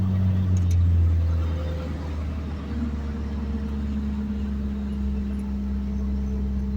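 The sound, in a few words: Ford Focus RS prototype car driving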